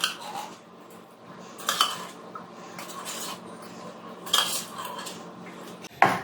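A utensil stirs a tomato paste mixture in a pot, giving a few sharp clinks and scrapes against the pot's side at irregular intervals, with a quiet stretch between them.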